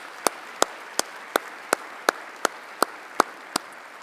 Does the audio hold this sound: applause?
yes